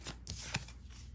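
Tarot cards being shuffled by hand, a short, quiet burst of papery riffling and slapping with a couple of crisp snaps, close by and alone.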